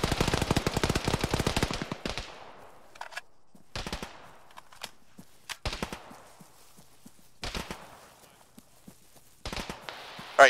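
Automatic and single-shot gunfire in the military game Arma, with a dense sustained burst at first, then separated sharp volleys and pops with quiet gaps between them.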